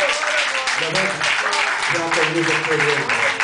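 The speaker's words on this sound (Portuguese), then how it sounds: "Dê uma salva de palmas em nome de Jesus." A church congregation claps together in a dense, steady wash of applause, with a voice speaking over it throughout.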